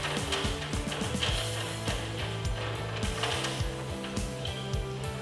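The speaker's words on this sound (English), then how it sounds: "And then we can back this nut off here." A ratchet backing off a nut during installation of aluminum rear corner armor on a Jeep JK, a steady run of rapid mechanical clicks, close and moderately loud, repeating evenly throughout with no talk.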